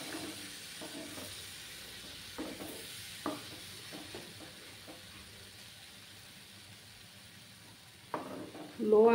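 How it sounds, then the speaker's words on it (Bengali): Sandesh mixture frying gently in a pan over low heat, a faint, steady sizzle broken by soft scraping stirs, with a louder clatter near the end. "একটু ভেজে নেব।"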